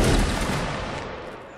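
Musket volley fire in Mount and Blade: Napoleonic Wars, a loud, dense crash of many muskets going off together, then a rolling, fading echo.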